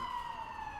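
A city emergency siren wails steadily in the background, a continuous tone holding at a constant moderate level under a quiet indoor room with no talk during this brief moment.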